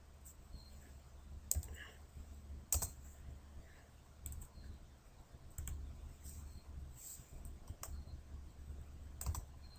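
Fingers typing on a computer keyboard while entering values during AutoCAD 3D solid modeling, several quiet separate key clicks spread out over a faint background hum.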